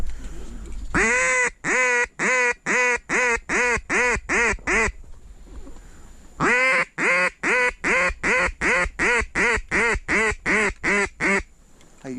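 Loud, close duck quacking in rapid rhythmic bursts, two long runs of repeated quacks separated by a brief pause.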